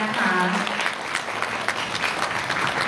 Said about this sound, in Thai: ขอเสียงปรบมือดังๆต้อนรับเจ้าสาวและเจ้าสาวของเราด้วยนะคะ